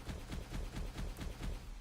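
Rapid gunfire from a weapon in a video game, heard as a quick, rhythmic burst of repeated shots at low volume, without talk.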